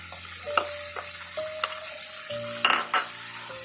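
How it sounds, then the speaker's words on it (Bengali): Shrimp kofta curry is stirred in a pan with a spoon, giving soft scraping and clinking over a gentle sizzle, with a few louder knocks against the pan. "আবার সব কিছু একত্রে ভালোভাবে আমি নেড়েচেড়ে মিশিয়ে নিচ্ছি।"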